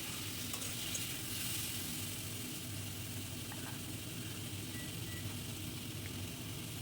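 Mango chutney cooks in a pan with a low, steady sizzle and faint scraping of a spoon as it is stirred, a continuous quiet bed of frying noise with no voices.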